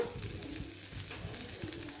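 Close, steady sizzle of ingredients for coconut chutney frying in a pan, with faint soft stirring knocks and no voices.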